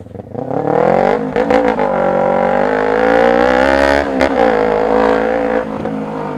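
A Kawasaki Ninja 250R motorcycle with about 30,000 km on it, ridden through traffic. The engine is loud and close, revving and holding a steady high-pitched drone, with brief dips as the rider changes gear.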